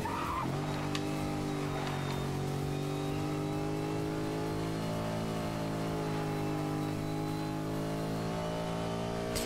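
BMW M3 Coupé in Need for Speed: Most Wanted (2012) holding a steady, loud engine drone with layered harmonics that sag slowly as the car loses speed, and a brief tire skid near the start.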